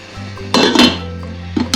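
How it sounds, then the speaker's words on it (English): Metal lid set onto a cooking pan: a couple of close clanks and rattles as it lands and settles, over a low steady hum from the stove. "Put the lid on"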